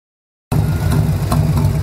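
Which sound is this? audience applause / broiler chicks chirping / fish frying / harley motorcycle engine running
harley motorcycle engine running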